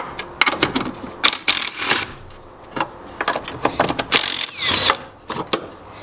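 Top strut mount nuts being loosened and removed on an FC RX-7, with repeated short metallic ratcheting and clicking bursts, close up, in uneven spurts and no talk.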